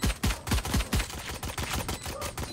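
Gunfire in the video game Valorant: a rapid series of sharp, punchy shots, about five in quick succession and then a few quieter cracks, up close and without any voices.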